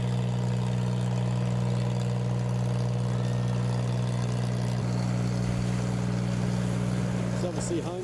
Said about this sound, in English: that boat that's coming directly for us